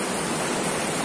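The Suaza river flows with a dense, steady rushing hiss of water, close and continuous with no other sounds.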